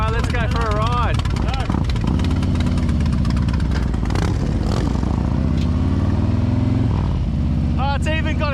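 Harley-Davidson Road King motorcycle engine running steadily and loudly up close, a deep continuous rumble under people talking.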